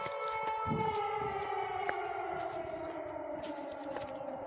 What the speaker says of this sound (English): They had them classic air raid sirens, that Soviet-era air raid siren